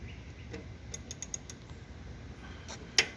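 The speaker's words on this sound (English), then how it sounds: "It's a 4mm socket." A ratchet with a tiny 4mm socket clicks in a quick run of light, close ticks while loosening a fastener on a tractor engine's carburetor, ending with a sharper metallic click.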